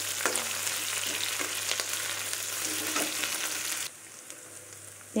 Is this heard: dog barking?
no